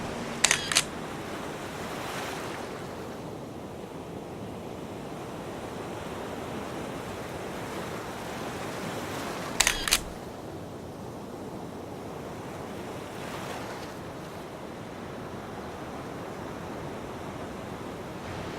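Ocean waves break and wash steadily along the shore at dusk, a continuous broad roar with swells rising and falling, plus two sharp camera shutter clicks and gusts of wind across the microphone.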